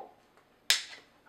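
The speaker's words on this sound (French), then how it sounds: "couper purement et simplement" A single sharp snip as a power supply cord is cut through, one crisp close click against near silence.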